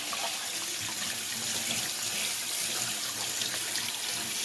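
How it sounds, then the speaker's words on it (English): Cold tap water runs steadily over boiled beans being rinsed for a carrot and bean stew, a constant close splashing hiss with no pauses. "I'm rinsing it with cold water."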